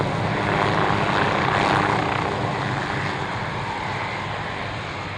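An aircraft engine roars loudly during an airshow departure, a steady propeller drone that swells slightly and then eases off as the plane takes off, with no voices.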